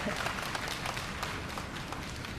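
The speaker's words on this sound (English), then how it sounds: "The applause." Crowd applause during the live broadcast of China's Mengtian module launch to the Tiangong space station: a continuous, even wash of clapping, fairly soft and sustained without break.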